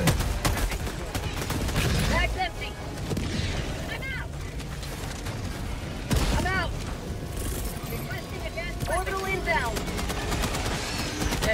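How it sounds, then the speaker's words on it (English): Heavy machine gun fire and booms in a Helldivers 2 battle against a Titan, dense continuous bursts with explosions throughout, loud and close under occasional talk. "Careful, machine gun."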